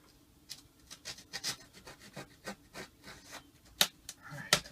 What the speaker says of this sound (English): I'm sure this is a whole lot of fun watching me cut wood.